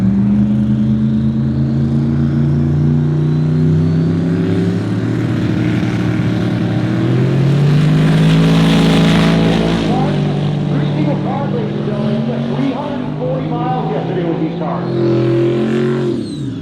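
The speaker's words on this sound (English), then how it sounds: "That's Andrew Domina, brand new car, the Mustang in the left lane" Drag racing cars at a race week event, one a brand new Mustang, roar loudly in a sustained engine drone that swells to a peak midway, with a public-address voice talking over the noise.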